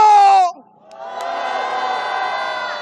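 A rally crowd shouts, starting with a brief, strong sustained cry. After a short dip, a broad chorus of voices rises into a held roar of cheering.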